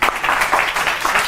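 Brief burst of audience applause at a live magic tutorial session, a dense wash of steady clapping filling the room for just over a second.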